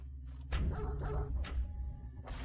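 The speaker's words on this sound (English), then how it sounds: "if I open this one here, I'm gonna be facing some dogs." Dogs barking in the video game Blade of Agony, several sharp barks and yips in quick succession over a low rumbling backdrop, fairly close and loud.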